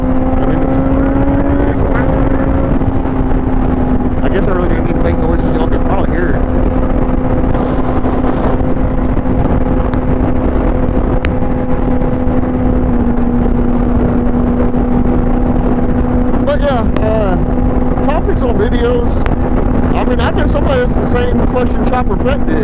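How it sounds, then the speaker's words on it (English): A 2005 Honda motorcycle engine drones steadily and close while slowing, its pitch rising and falling as the throttle is blipped, with a person talking over it throughout. "I won't use the clutch. I'll just throttle blip it down."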